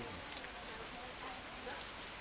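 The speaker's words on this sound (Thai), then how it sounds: "ฝนตกทุกวันในตั้งแต่มา" Rain falling at a canal-side house in Nakhon Pathom, Thailand, a faint, even hiss of drops on surfaces with small scattered patters, steady throughout the brief moment.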